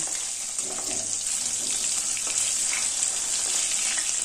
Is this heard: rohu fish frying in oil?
yes